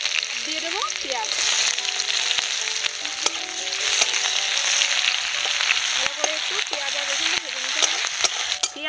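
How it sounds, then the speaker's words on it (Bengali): Panch phoron, dried chilli, chopped garlic and onion frying in hot oil: a continuous, close crackling sizzle scattered with small pops and clicks from stirring, lasting throughout. "তেলের মধ্যে ফোড়ন দিয়ে দেব, পাঁচফোড়ন আর শুকনো লঙ্কা, রসুন কুচি দিয়ে দিলাম, দিয়ে দেবো পেঁয়াজ।"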